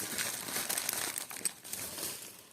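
A plastic packet holding vintage jewellery crinkles as it is unwrapped, with quiet, close, irregular rustling and crackling throughout.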